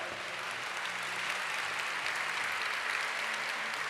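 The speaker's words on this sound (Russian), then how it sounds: "Ваши аплодисменты, дамы и господа" An audience applauds a monastery choir at a forum's opening session, a steady, dense wash of clapping from a large hall crowd that holds even throughout.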